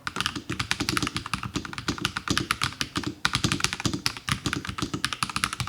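Rapid, crisp clacking of a NuPhy Halo 75 mechanical keyboard being typed on up close, a steady stream of keystrokes with brief pauses.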